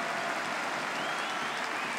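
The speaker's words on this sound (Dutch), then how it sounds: "Applaus." A stadium crowd at an Eredivisie football match between FC Utrecht and AZ applauds a departing player, a dense, steady wash of clapping and cheering that holds at an even level throughout.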